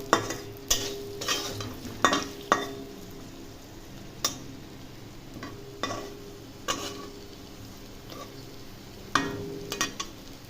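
Fried potato pieces are mixed with chaat masala in a frying pan. Repeated scrapes and clinks of a spoon against the metal pan sound steadily over a soft, continuous sizzle, close by, with no voices.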